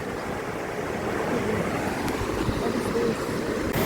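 The Sankhuwa Khola in Nepal rushes past in a steady, broad roar of flowing river water, close and continuous throughout with no clear pauses.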